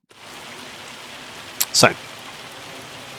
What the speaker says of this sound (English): when's this rain supposed to stop?